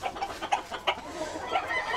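A Clemen del Rat rooster at a breeding farm clucks in a few short, sharp bursts close by, over a steady background of other fowl calling.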